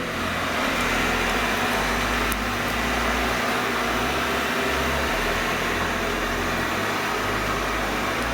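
A Eufy G10 Hybrid robot vacuum runs nearby with a steady, even whir and broadband hiss, a constant low hum underneath and no voices.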